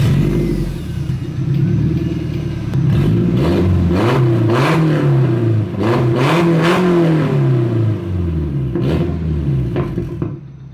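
A Nissan S14 starts up and revs with its exhaust disconnected, giving a loud, raw, rasping engine note that climbs and falls through several blips over a steady idle, close by and continuous.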